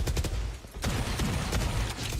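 Sheriff hand cannon shots in Valorant during an NRG versus EG esports match, a few sharp loud cracks in quick succession over a busy game mix, with a brief lull before more firing.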